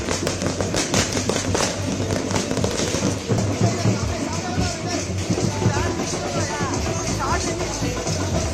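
Firecrackers bursting at a political leader's birthday celebration held by fans after an election win, a dense, continuous crackle of pops mixed with crowd noise and speech babble throughout.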